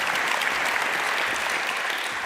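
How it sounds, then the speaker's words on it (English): Dense, steady applause from a conference audience at an international wood architecture event, sustained and loud throughout with no pauses. "A big hand of applause to Lone."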